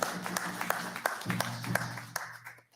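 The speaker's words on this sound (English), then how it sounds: "Give her a round of applause." Sparse, distinct claps ring out at a First Nation graduation ceremony, a handful of separate hand strikes over a low hum and murmuring voices, fading out at the end.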